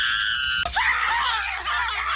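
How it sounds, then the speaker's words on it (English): A group of people suddenly bursts into loud, sustained screaming on cue at a secret word, cutting off a steady tone. The shrill, ragged shouting carries on strongly to the end. "whenever anyone says the secret word, scream real loud!"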